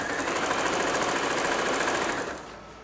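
A Janome J3-24 sewing machine running a straight stitch, a close, steady whirring hum with a fast even needle rhythm that holds for over two seconds before winding down.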